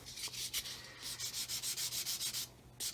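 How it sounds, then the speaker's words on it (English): Sanding of flat plastic glazing panels on a 1/144 Roden C-141B Starlifter model kit, heard as close, steady rhythmic rubbing strokes repeated about a dozen times, with no talking. "So again, I'm just going to sand this"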